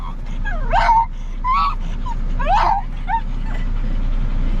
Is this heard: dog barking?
yes